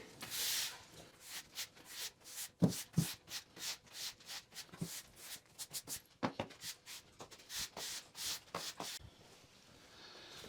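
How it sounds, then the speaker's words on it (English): Sawdust being swept off a greenhouse floor, the broom giving repeated short, dry scraping strokes in an uneven rhythm, fairly close and quiet, with no talking. "All right, all swept up, ready to go."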